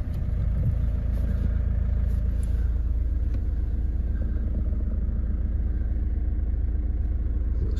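Citroen Berlingo 1.5 BlueHDi diesel van idling just after starting, a steady low rumbling drone with a faint ticking texture, close and continuous throughout with no talk.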